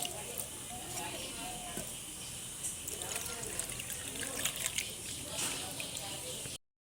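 Flattened rice (chira) being washed in water, with soft trickling and sloshing under a faint background hiss; a voice murmurs quietly at times.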